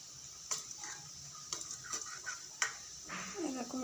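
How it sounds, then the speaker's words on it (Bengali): Soft, steady sizzling of sweets frying in oil, punctuated by a few clicks and clinks of a utensil, with brief bits of voice in the background. "ভাজা প্রায় শেষের পথে মিষ্টিগুলো"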